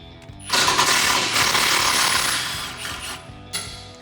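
Hand ratcheting or working a 13mm wrench on axle bolts, a sustained dense metallic rasp and clatter of mechanism noise lasting a few seconds, loud and close, with a brief tap near the end.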